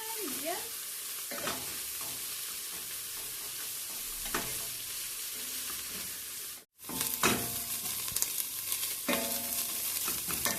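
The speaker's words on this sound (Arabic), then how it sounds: "كنحركو مزيان" Shrimp shells being stirred in a pot for Moroccan shrimp soup: a steady frying sizzle with repeated scraping strokes of a utensil, a brief break near the middle, no talking.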